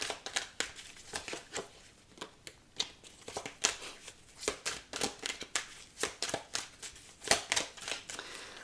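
Tarot cards are shuffled close and continuously, with dense crisp flicks, slaps and papery rustles in an uneven rhythm and no talking.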